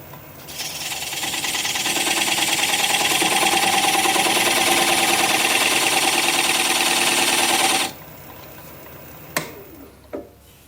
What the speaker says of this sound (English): I'm going to take this 1/4-inch spindle gouge and just cut a groove right where the raised area here meets the bottom.